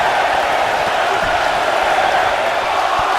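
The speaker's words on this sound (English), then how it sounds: "Go listen to this crowd." A dense roar of a large wrestling arena crowd cheering and clapping at a WWE Elimination Chamber match, loud and unbroken from start to finish, with faint voices mixed in.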